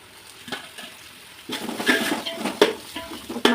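Onions with green chilli and coriander sautéing in a pan: quiet at first, then a louder stretch of scraping stirs, spoon clinks and soft sizzle running to the end.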